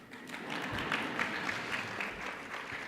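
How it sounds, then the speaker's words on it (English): A conference audience at a general session applauds with a soft, steady patter of clapping that sounds fairly distant and subdued. "You can clap."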